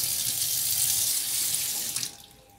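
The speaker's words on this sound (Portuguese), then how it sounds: "Enxago ele e vou colocando aqui pra escorrer" Tap water runs steadily into a kitchen sink as a dish is rinsed, a bright continuous splash that cuts off abruptly near the end, leaving a faint room tone.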